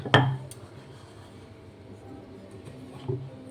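A bowl is pressed down onto flattened rolled oat dough to cut a circle, giving one sharp close clink as it lands, then quiet shuffling and a softer tap near the end.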